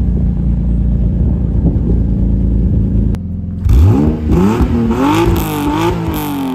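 A car engine idles with a low steady rumble, cuts off briefly, then fires up and revs hard several times in rising and falling surges, loud and close with no talking.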